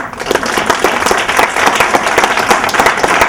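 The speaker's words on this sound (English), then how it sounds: "Y'all, please give Tyrese a round of applause." Applause for actor Tyrese Gibson at a speaking event in a lunch series, a lively burst of close, crisp hand claps from the audience in uneven rhythm.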